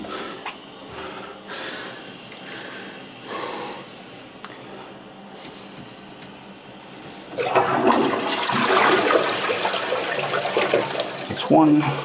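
A toilet being flushed to clear a clog: after quiet, low-level sounds, a loud rushing swirl of water starts partway through and carries on strongly to the end, close by and alone.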